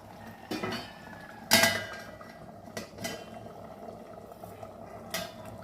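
Carrot halwa being mixed in a pan, with a low bubbling simmer under scattered scrapes and clinks of a metal spoon against the pan, quiet and close, no talking.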